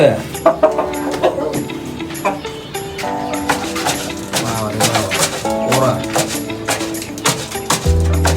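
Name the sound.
rooster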